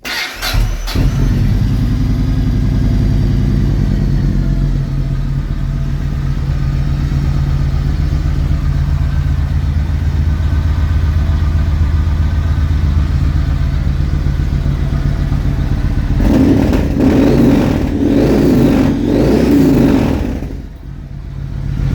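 A motorcycle engine is run up and revved, giving a loud, steady low-pitched drone that holds for most of the stretch before surging and falling away near the end, with no talking over it.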